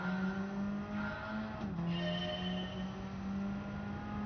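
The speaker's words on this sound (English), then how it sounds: "you can hear the tires just screaming" A racing car's engine hums steadily while tires squeal in sustained tonal whines, with a brief pitch dip midway, close and continuous, in Gran Turismo 7 at Brands Hatch.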